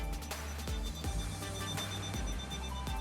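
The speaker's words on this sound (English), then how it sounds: "Got a little VHF going off, but I'll turn that alarm off." A VHF radio alarm sounds at the helm of a Lagoon 420 catamaran, a close, steady electronic tone with a repeating pulse and no voices over it.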